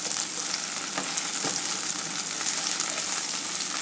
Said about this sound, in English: As you can see, the garlic and some of the onions are starting to brown on the edges.